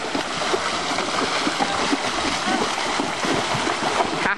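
Steady broadband splashing and rushing water, continuous and fairly loud, as horses, including an Appaloosa gelding, wade through the Chattahoochee River, with faint voices underneath.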